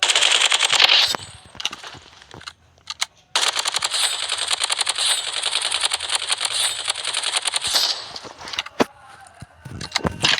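Galil rifle gunfire in the Blood Strike video game: loud, rapid automatic bursts, a short volley, a pause with a few scattered shots, then a long sustained stream of fire that ends in a few more single cracks.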